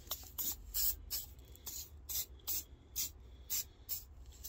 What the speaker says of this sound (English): I'm gonna take some liquid wrench and just put it on these bushings here